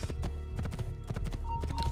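Horse hooves clip-clopping in the video game Assassin's Creed 2, a quick irregular run of hoofbeats heard under a person talking.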